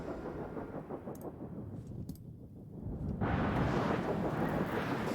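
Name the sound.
thunderstorm in the video game Stationeers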